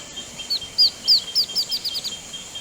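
An antbird gives a quick series of clear, high whistled notes that speed up and fade, loud and close against a quiet Central American rainforest background.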